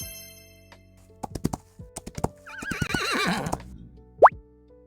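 A horse in the Wild Horse Islands video game gives a wavering, mid-length whinny, preceded by scattered sharp clicks and taps and followed by a brief rising squeal.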